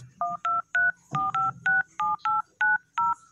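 Ten DTMF keypad tones from a phone dialing an international number to Singapore, short evenly spaced beeps in a quick rhythm, close and clear with a faint background hum.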